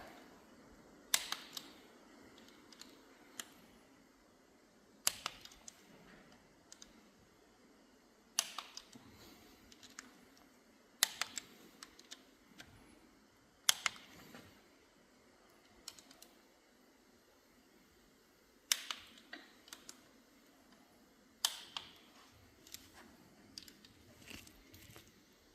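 A torque wrench gives sharp, isolated clicks every few seconds while torquing the cam bolts on a 1997 Ferrari F355 during head and cam installation in a workshop. The clicks are close and crisp over a quiet background, with no talking.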